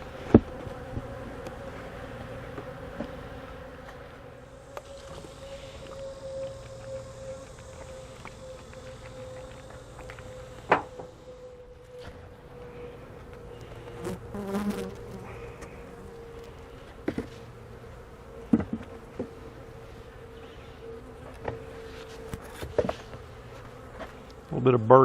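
Honey bees buzz continuously around full honey boxes during a honey harvest, a close, steady drone broken by occasional knocks and clicks of hive handling.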